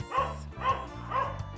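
A dog at a disc dog training session barks three times in an even rhythm, each bark loud and close, with faint background voices or whining between them.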